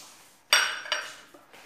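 A spoon clinks against a pot while a warm banana dessert mixture with butter melting into it is stirred, giving two or three sharp metallic taps close by, with quiet gaps between them.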